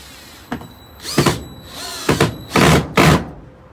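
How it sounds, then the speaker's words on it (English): A power drill drives screws to mount a Risk Racing Lock-N-Load motorcycle mount, with several close, loud bursts of whirring separated by short pauses. "just drill it down."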